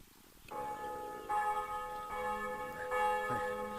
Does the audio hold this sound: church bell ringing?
yes